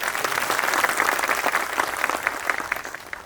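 Audience at a police farewell ceremony applauds loudly and steadily, a dense wash of many hands clapping together that stays full throughout and loosens slightly toward the end.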